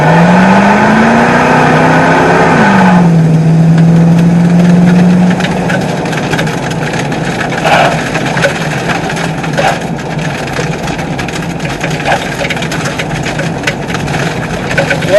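A Mustang engine revs and runs on a nighttime test drive, a rising, steady drone up close at first, then a continuous road rumble with gravel rattling against the wheel wells.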